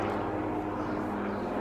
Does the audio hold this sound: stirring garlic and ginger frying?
no